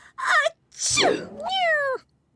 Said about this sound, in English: The cat is making me sneeze.